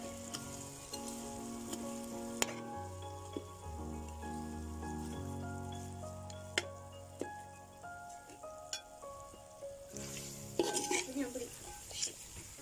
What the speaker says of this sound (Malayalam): നമ്മൾ പൊരിച്ച് വെച്ച ചിക്കൻ ഇതിലേക്ക് ഇട്ട് കൊടുക്കുക